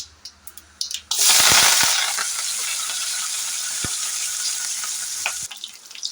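Small shallots and curry leaves hit hot oil with a loud burst of sizzling and spitting, which then settles into a steady hiss and fades near the end, after a few soft clicks at the start.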